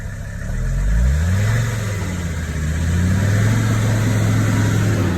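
A 1984 Mercedes W126 300SD diesel engine runs nearby with a loud, steady clattering drone that swells slightly as it picks up off idle and then settles into an even hum.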